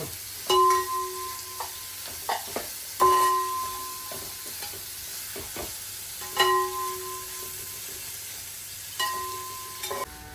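Onions sautéing in a pan for a mushroom and kanthari chilli dish, a soft steady sizzle broken by several sharp metallic scrapes and clanks of a spoon stirring against the pan, close and clear with no talk.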